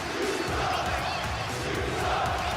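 A video game arena crowd in WWE 2K18 roars loudly and steadily as wrestlers Kalisto, Zelina Vega and Andrade make their entrance, a dense sustained wall of cheering and shouting.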